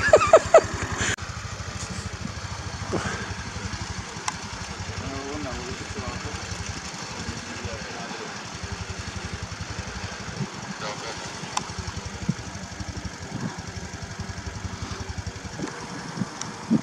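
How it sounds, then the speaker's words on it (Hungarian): At an airfield, a scooter engine idles steadily in a low, even putter with faint rattling, fairly quiet and continuous for the whole stretch, with occasional small knocks over the background. "A lijepo mu radi motor."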